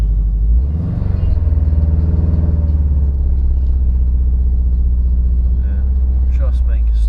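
A Subaru Impreza WRX STI rolls forward in first gear, its engine a loud, steady low rumble that rises slightly as it pulls away, with a few sharp clicks near the end.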